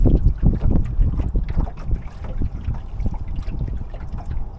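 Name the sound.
small waves against a sailing lugger boat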